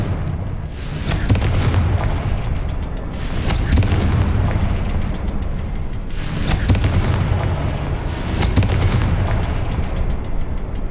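Confringo fire spells explode in Hogwarts Legacy, four loud, booming blasts arriving at roughly even intervals, each with a crackling roar that fades into the next.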